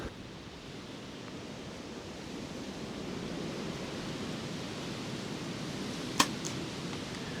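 Wind blows across an outdoor archery 3D target course as a steady, broad rushing roar, with one sharp arrow impact cracking briefly near the end.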